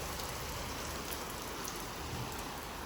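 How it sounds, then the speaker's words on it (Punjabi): Steady, dense rainfall pouring down hard, a continuous hiss of drops hitting surfaces with no pauses and no voices. "ਇੱਧਰ ਮੀਂਹ ਦੇਖੋ ਕਿੰਨੇ ਜ਼ੋਰਾਂ ਦੇ ਆ"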